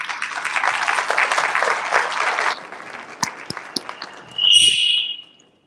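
An audience at the GEO Week conference applauds to welcome a speaker to the stage. Dense, steady clapping fills the first few seconds, thins into scattered individual claps, and ends with a brief high-pitched whistle or ring.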